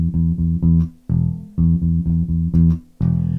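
Electric bass plays an opening riff in E: a rhythmic figure of repeated clipped notes in short phrases, close and loud, with no voices.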